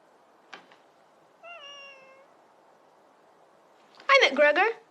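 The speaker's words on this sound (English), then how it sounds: "Why is it that cat only shows up when there's food around?" A cat gives a short drawn-out meow, followed after a pause by a louder, longer meow, with faint clicks in between against a quiet room.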